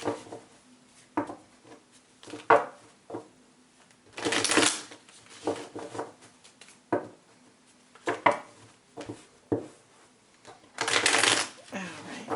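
A deck of tarot cards is shuffled by hand in repeated bursts of riffling and brief flurries, close and crisp, with pauses between the shuffles and soft handling noises in between.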